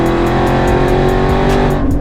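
A 900 HP Jeep Trackhawk, the Reaper Hawk build, revs hard and loud up close, a steady, raspy, harmonic-rich engine roar sustained throughout with regular pulsing surges, no voices.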